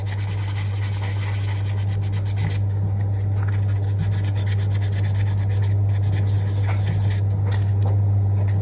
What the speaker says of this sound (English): Just sand that flat, and hopefully that's jobbed.